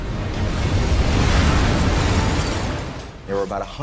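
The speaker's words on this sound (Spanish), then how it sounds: "Toda la ciudad se ve sacudida por la explosión." A loud, sustained roaring blast of a World War II destroyer exploding rumbles for several seconds, broad and heavy, then fades as a voice briefly speaks at the end.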